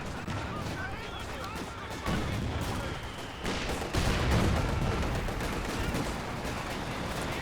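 Company of Heroes battle sounds, dense overlapping gunfire and artillery bursts with rumbling explosions in a busy mix, under a commentator talking.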